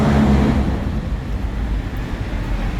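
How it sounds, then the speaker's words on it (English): A heavy truck rumbles past on a street in Nassau, Bahamas, a loud low roar that starts strong and settles into steady traffic noise. "You have to excuse the truck noise, guys."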